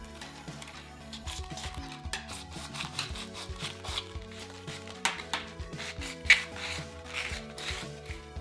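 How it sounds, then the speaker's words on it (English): Sandpaper rubs against an aluminum soda can to strip its white coating, giving a quiet, steady run of rhythmic scratchy strokes with faint tonal hums behind them. "use sandpaper to remove this white layer"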